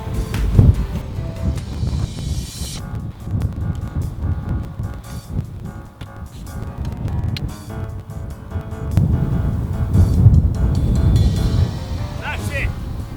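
Gusty outdoor wind around a Mini Countryman with a rooftop Autohome tent, heard as a steady low roar and buffeting on the microphone that swells near the end, with people talking throughout.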